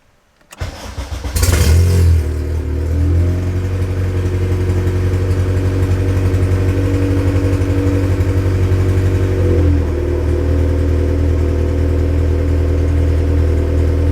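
A car engine cranks and catches, revs briefly, then settles into a loud, steady idle close by, with a small shift in tone partway through.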